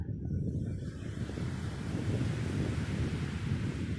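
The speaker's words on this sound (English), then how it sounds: "as the waves roll in and the waves roll out" Ocean waves rolling in and out, a steady broadband wash of surf with a rough wind rumble and no pauses, fairly close and constant throughout.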